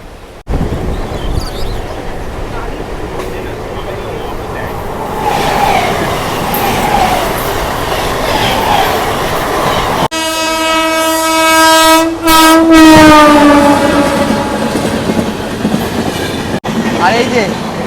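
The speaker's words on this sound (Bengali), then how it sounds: "যে ক্রস করছে হাওড়া অমৃতসর মেল" Howrah Amritsar Mail express train roaring past a fast local train, with loud continuous rail rumble and clatter, then a strong sustained horn blast rising and bending in pitch midway, close and dominant.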